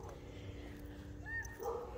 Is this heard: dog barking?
yes